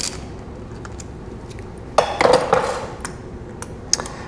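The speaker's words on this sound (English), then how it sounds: "Let's loosen these 3 T50 bolts that hold the valve cover on." Three T50 Torx bolts holding the valve cover on a BMW R1200RT motorcycle are loosened: a quiet stretch, then a cluster of sharp metallic clinks and tool scrapes, followed by a few scattered light taps.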